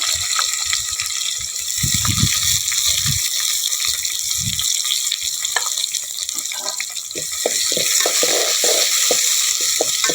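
Two large sliced onions frying in a pan over a wood-fired stove for a mutton curry, a loud continuous sizzle with bursts of stirring and scraping throughout, close and steady.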